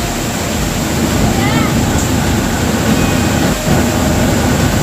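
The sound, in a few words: Daranak Falls waterfall in Tanay, Rizal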